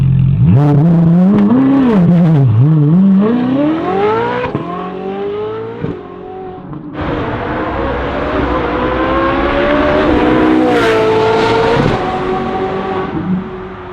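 A Ferrari 458 with an aftermarket exhaust revs up and down close by, its exhaust giving a throaty, rising and falling note that holds for several seconds.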